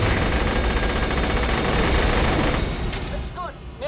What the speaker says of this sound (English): That's a lot of shooting speed